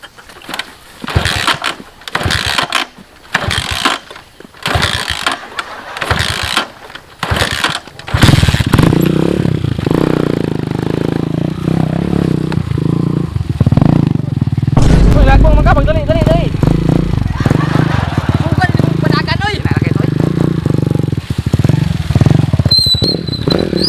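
A motorcycle carrying passengers runs steadily at close range through most of the stretch, its continuous engine drone rising after a choppy start, with people talking over it.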